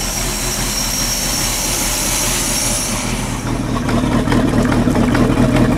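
An old fishing boat's engine runs at a steady, loud drone, then shifts into forward gear partway through, after which the rumble grows fuller and louder.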